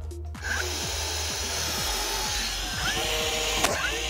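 A DeWALT DCN680 cordless finish nailer firing nails into wood, with a steady run of quick, regular clacking shots over a motor hum, close and loud, with no talking.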